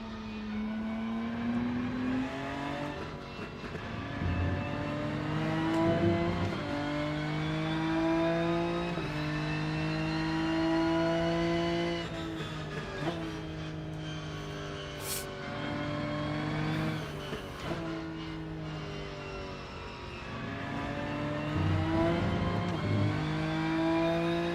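A BMW race car in the Rennsport racing game, driven at the Nürburgring in multiplayer, drones loudly and steadily as its engine revs rise and fall through gear changes, close and continuous with no talk.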